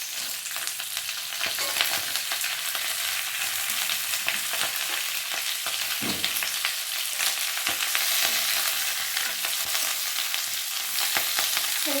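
Ponnaganti leaves frying in oil: a continuous, even crackling sizzle held close for the whole stretch, with occasional soft stirring scrapes and no talking.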